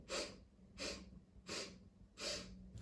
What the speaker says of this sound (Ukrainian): вдих на чотири сходинки, такі чотири підходи